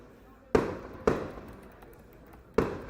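Fireworks go off from bungalows next to a non-league football ground during a match. There are three sharp, loud bangs, two close together and one after a pause, each trailing off into a faint outdoor background.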